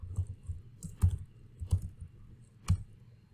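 A computer keyboard typing in a short code, soft scattered keystrokes with uneven gaps, close and quiet with no speech.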